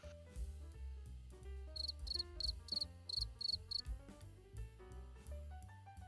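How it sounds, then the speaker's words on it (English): Cricket chirps sound in several short pulsed bursts over a loud musical backing, a comedic cue dropped into a tabletop role-play session. "Crickets mean yes."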